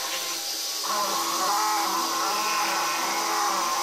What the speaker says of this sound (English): Switching on the Proxon, switching on the vacuum cleaner